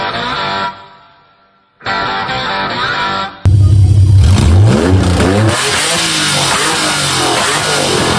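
A Nissan G37 with a VR30 engine swap and no exhaust revs hard nearby, with two short bursts, a brief pause, then a loud sustained roar rising and falling in pitch.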